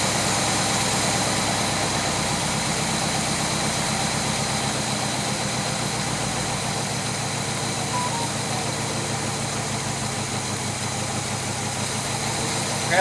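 An abandoned 1966 Chevy Biscayne big block, running on a dead cylinder, idles steadily and loudly with a rough, uneven low rumble that carries on alone without pause.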